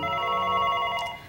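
An indoor telephone rings in a 1990s Korean TV drama scene: a steady, buzzy electronic ring tone, loud and close, that sounds continuously for about a second before cutting off, with no talking.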